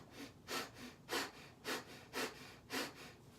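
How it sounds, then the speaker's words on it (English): Deep breaths are drawn into the abdomen in a slow repeating rhythm, about six soft airy pulses with alternating inhales and exhales, quiet and close with no talking. "So you want to breathe into your abdomen."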